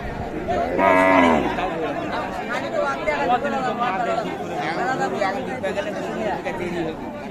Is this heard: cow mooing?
yes